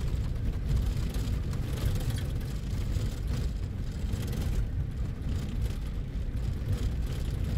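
A car drives steadily through the Harina cloud forest in Ethiopia, a continuous low engine and road rumble holding at an even level throughout with no voices.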